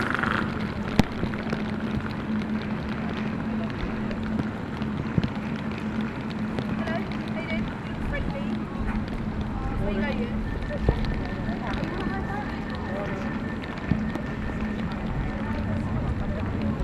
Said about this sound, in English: Blowing the rain now, absolutely hammering it down.